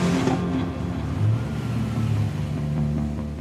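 A car fitted with a roll cage drives up a giant seesaw ramp, its engine revving and accelerating steadily at close range, with no talk.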